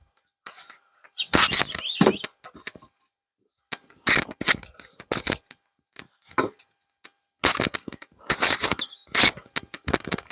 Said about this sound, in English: So just gently go across this with the back of the rake,